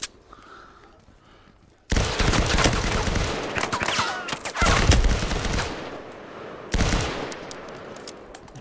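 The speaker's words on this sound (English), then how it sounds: "It's just blind firing over the wall." Gunfire from the video game Firewall Zero Hour, in loud sustained automatic bursts of blind fire over a wall, separated by short quiet gaps.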